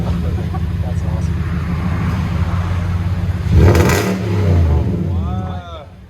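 2019 Nissan Titan 5.6L V8 with a Stillen cat-back exhaust, a steady deep idle rumble that swells into a louder rev and then settles back down, heard close with people talking over it.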